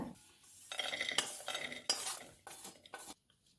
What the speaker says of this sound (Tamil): இதையும் லேஸ்ட்டாக கோல்டன் ப்ரௌன் வந்துருச்சு இதையும் தட்டில் கொட்டிடலாங்க